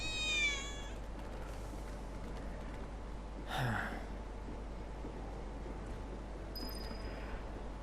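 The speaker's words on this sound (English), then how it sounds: "I think one of Betty's cats might be nearby. yeah, I found one kitten." Kitten meowing in Final Fantasy VII Remake: a short run of high, stacked meows opens, followed by a lone cry a few seconds later, over a low, steady game ambience with a faint tone near the end.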